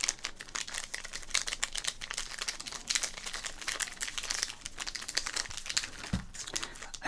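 A 1987 Topps baseball card pack wrapper crinkles close up in dense, continuous crackling bursts, with a few sharper tearing-like crackles mixed in and no voice over it.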